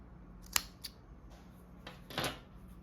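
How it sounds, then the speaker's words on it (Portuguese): Scissors snipping crochet yarn while finishing a fringed crochet bag, a few crisp close snips spaced apart, quiet room, no talking. "eu vou dar a laçada para cortar o fio"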